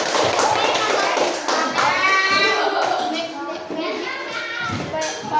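Fifth-grade pupils in an elementary school classroom clap for a group of classmates, uneven taps and claps close by mixed with children's chatter and excited voices.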